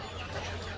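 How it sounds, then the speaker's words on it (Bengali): A Brahma rooster at a village market gives a brief, faint cluck amid a low, steady background murmur. "ব্রাহ্মা মোরগ চলে আসছে বাজারে"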